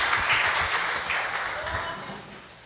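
Church congregation applauding, a steady wash of clapping that fills the space evenly and fades slightly toward the end, with a few voices mixed in.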